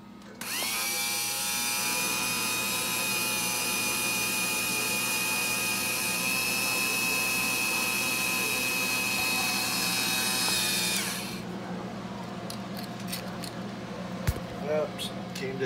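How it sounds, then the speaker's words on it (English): A Showa tilt-trim motor from a 2000 Evinrude 70 hp outboard runs under power, holding a steady, loud electric whine for about ten seconds before stopping abruptly, followed by a few faint clicks and knocks. "what we got here is a tilt trim motor from a 2000 Evinrude, 70 horsepower"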